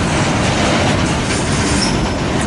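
A freight train hauled by CN and KCS locomotives rolls past close by in Ashland, Nebraska, a loud continuous rumble of wheels and railcars with faint metallic squeal and clatter and no pauses.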